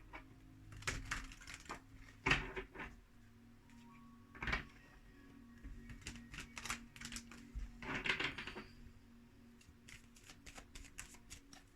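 Faint, close clattering bursts of an Archangel Michael oracle card deck being shuffled, several short riffling flurries separated by pauses, with light tapping between them.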